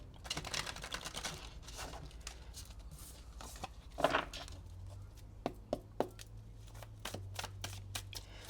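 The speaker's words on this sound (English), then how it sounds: "We'll do one more shuffle." Tarot cards shuffled by hand in a series of quick, crisp riffles and slaps, loud early on and then as scattered sharp flicks, close up with no talking.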